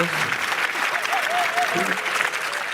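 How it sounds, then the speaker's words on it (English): Arena crowd applauding and cheering for the home team, a dense, steady roar of clapping with scattered whistles and shouts that holds for about three seconds. "That's a solid 8 out of 10 clap."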